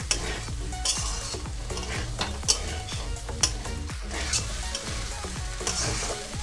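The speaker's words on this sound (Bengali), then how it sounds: "মটরশুঁটিগুলো এবার আমি এখানে দিয়ে দেবো মশলার সাথে মটরশুঁটিগুলোকেও খুব ভালো করে কষে নেব" Boiled green peas being sautéed with spices in a pan for ghugni: a steady close sizzle with rhythmic scraping strokes of a spoon against the pan, repeating roughly twice a second.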